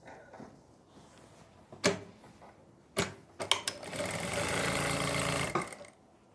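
A sewing machine stitches the upper seam of a palazzo pant in one steady run of a couple of seconds near the end, preceded by sharp clicks and knocks from handling the machine and fabric.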